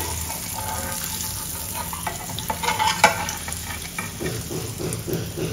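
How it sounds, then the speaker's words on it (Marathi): Food frying in a pan just after being flipped to cook the other side, a steady close sizzle with stirring and scraping noises rising in the middle, no voices. "आता दुसऱ्या बाजूनेही आपण फ्राय करून घेऊया."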